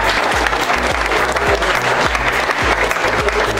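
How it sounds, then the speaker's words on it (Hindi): Audience at a live class on Redmi Note 8 Pro graphics repair clap steadily, a dense, even applause lasting throughout, close and fairly loud with no talk over it. "ताली होनी चाहिए भैया की"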